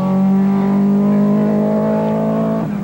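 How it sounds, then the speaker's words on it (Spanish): A Renault R12 rally car in the 1979 Caminos del Inca race passes at speed, its engine a loud sustained high-revving drone that shifts pitch slightly before fading at the end. "Y en la primera visita de Jorge El Recalde en su Renault R12, muy rápido."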